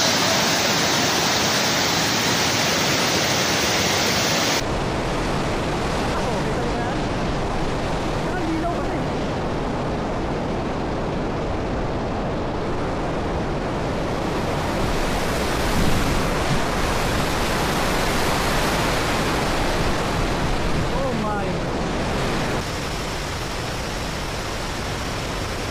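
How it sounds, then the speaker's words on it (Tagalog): Daranak Falls in Tanay, Rizal, a popular swimming spot, roars as a steady broadband rush of heavy falling water, loud and continuous throughout with no break, with faint distant voices of bathers mixed into the noise. "Daranac Falls."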